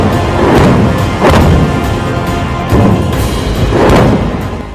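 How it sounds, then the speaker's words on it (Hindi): Loud, heavy booms from fighter jet airstrikes roll out one after another, several deep blasts spaced a second or so apart over a continuous rumbling roar. "बारूदी धमाके होने लगे।"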